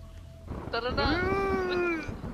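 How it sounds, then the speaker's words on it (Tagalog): A cat meows in the Roblox game Chained Together: one long, drawn-out meow that rises and slowly falls, heard clearly over a low game background. "Bigat naman ng pusa na to"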